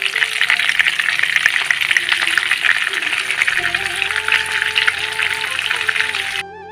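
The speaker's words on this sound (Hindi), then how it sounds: "इसी तरीके से हम चलाते हुए और शिमला मिर्च को पलटते हुए, इसकी हर साइड को पलटते हुए हम इसे रोस्ट कर लेंगे।" Spice-coated stuffed bell peppers roasting in a pan, a constant crackling sizzle as they are stirred and turned, with a tonal hum and a voice joining partway through, then the sizzle drops away at the very end.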